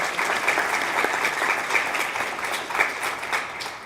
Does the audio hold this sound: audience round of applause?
yes